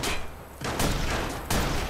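Gunfire in the video game Watch Dogs, with loud, close shots arriving as a few heavy booming bursts spaced under a second apart over a dense, noisy background.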